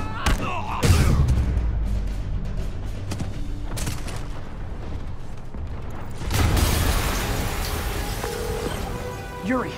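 Explosions go off in the Marvel's Spider-Man video game: a heavy blast early on and a second burst later, with crackling, rain-like debris and rumble filling the space between them.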